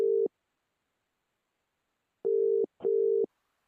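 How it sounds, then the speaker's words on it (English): A telephone call tone sounds as a phone call is placed, short steady electronic beeps with one brief burst, a long silent gap, then two more bursts close together, clear and alone. "He fumbled with his phone and called Margaret."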